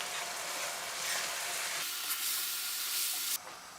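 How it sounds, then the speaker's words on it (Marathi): Tomato puree fries and sizzles in a pan for a vegetable biryani, a steady close hiss that briefly dips and swells with stirring. "आता यातच इथे मी 10 टोमॅटोची प्युरे यात घालत आहे."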